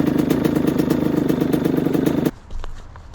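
A Yamaha YZ125 dirt bike engine runs loud and steady at a constant pitch, then cuts off abruptly after about two seconds, leaving faint background noise and a few soft knocks.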